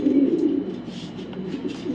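Soft, low cooing from a female racing pigeon, a steady murmuring coo with slight swells, close by and alone.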